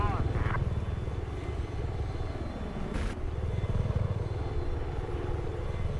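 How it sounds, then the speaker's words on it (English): An attack helicopter in Battlefield 4 thrums with a steady rotor chop throughout, loud and close, while people talk over it. "Attack chopper up as well. Enemy chopper spotted."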